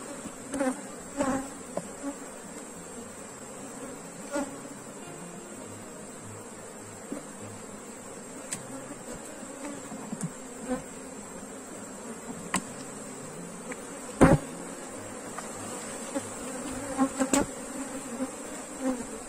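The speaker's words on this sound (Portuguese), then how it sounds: "Que enxame populoso." A populous honeybee swarm drones steadily in the hive throughout, a continuous close buzzing with occasional brief knocks and clicks and no voices.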